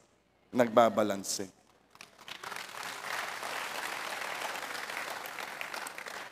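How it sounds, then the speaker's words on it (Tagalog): Audience applause breaks out in a church during a sermon and holds steady as dense, even clapping for several seconds, right after a short spoken phrase. "Ba't doon kayo pumalakpak?"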